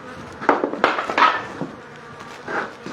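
Honeybees from a highly selected colony buzz at a hive during a colony transfer, a close, fluctuating drone with brief louder swells as insects pass near, mixed with light handling knocks.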